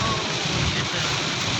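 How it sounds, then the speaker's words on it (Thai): Heavy rain pours steadily in a dense, continuous hiss on a road where visibility is poor, loud and unbroken throughout the short stretch. "ฝนมันตกเลยฝนตกเนี่ย"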